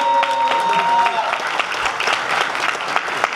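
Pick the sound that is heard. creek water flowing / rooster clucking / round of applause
round of applause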